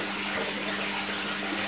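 Water drains steadily from a large fish tank during a water change, a continuous rushing gurgle with a faint hum, close and unbroken.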